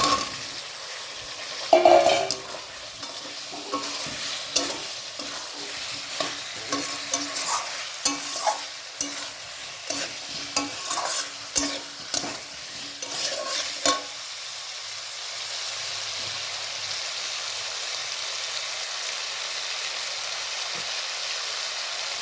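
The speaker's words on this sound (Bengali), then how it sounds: "যে আলুগুলোকে লাল লাল করে ভেজে তুলে রেখেছি, ওই আলুগুলোকে দিয়ে দিচ্ছি" Browned fried potatoes tipped into hot oil with frying spices and stirred for alur dom, a spatula scraping and clacking in an irregular rhythm over a soft sizzle that settles to a quiet steady fry near the end.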